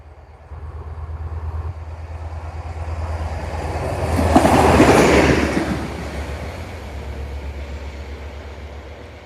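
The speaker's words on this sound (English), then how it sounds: "Here we go, train coming, guys." Train 57010 heading to Newark passes in heavy rain, a low rumble building gradually to a loud peak at mid-clip and then fading, with steady rain hiss underneath.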